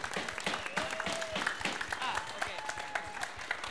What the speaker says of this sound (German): Einen großen Applaus für sie.